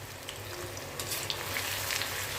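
Food frying until crisp in a pan, a dense, even crackling sizzle that swells slightly toward the end, close but fairly quiet, with no voices.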